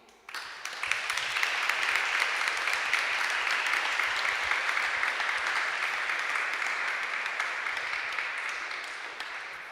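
Sustained applause from a conference audience after a panel on surveillance ethics, steady dense clapping that swells quickly and holds for several seconds before easing slightly.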